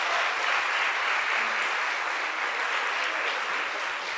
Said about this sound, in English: let's give a round of applause for Cheryl Dunye.